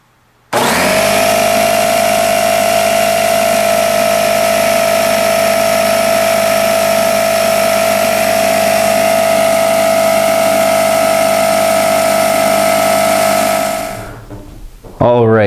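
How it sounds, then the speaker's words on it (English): A Porter Cable 6-gallon, 150 PSI portable electric pancake air compressor starts abruptly and runs with a loud, steady motor drone and a constant whine while filling its tank from empty. It runs unchanged for about thirteen seconds, then winds down. "it took about 3 minutes for the compressor to get fully charged"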